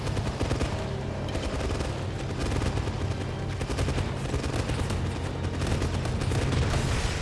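Dense, sustained gunfire from a James Bond 007 video game, with continuous rapid shots and booms filling the whole stretch at steady loudness, with no talking.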